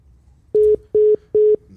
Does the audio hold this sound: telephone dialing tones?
yes